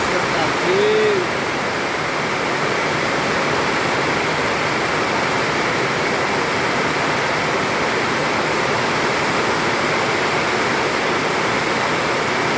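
Heavy rain pours steadily in Manaus during August, a dense, constant wash of falling water that stays loud and unbroken throughout, with no speech over it.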